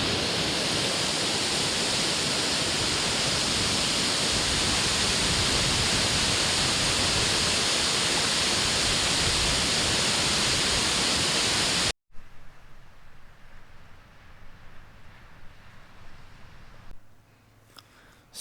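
Steady, dense rain hisses on a tent in a coastal forest campsite on the West Coast Trail for about twelve seconds, then cuts off, leaving a quieter, faint outdoor ambience.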